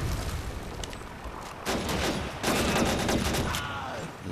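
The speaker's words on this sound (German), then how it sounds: "Können ja auch mal ein bisschen mit der hier schießen" Heavy gunfire crackles in a World War II battle in the Call of Duty 2 video game, rapid shots and bursts piling into a dense, continuous fusillade with louder surges partway through.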